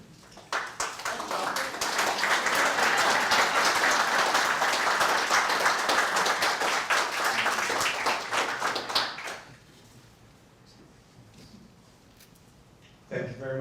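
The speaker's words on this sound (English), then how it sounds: "would Larry Link stand up for some applause?" An audience at a gallery talk breaks into loud, sustained applause lasting about nine seconds, then it fades to a quiet room before a brief burst of sound returns at the end.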